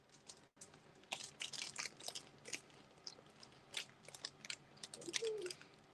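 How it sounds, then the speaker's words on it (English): Close crunching bites into a Rice Krispie treat, a steady series of crisp crackling chews at an uneven rhythm, fairly quiet, with a faint background tone and a brief squeak near the end. "Y'all hear me crunching on his Rice Krispie treat?"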